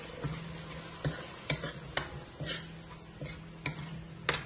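Onion masala frying in a pan for palak paneer, a steady soft sizzle broken by regular clinks and scrapes of a spoon stirring against the pan.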